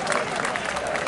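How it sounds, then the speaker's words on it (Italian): A festival crowd in Sant'Arpino claps continuously, a dense, even patter of many hands throughout, with voices mixed into the noise. "Ed applaudì però!"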